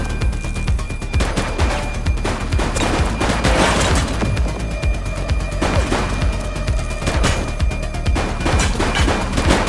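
Sustained gunfire in the police game The Precinct, a loud, dense fusillade of rapid overlapping shots with machine-gun-like bursts, continuous for around ten seconds.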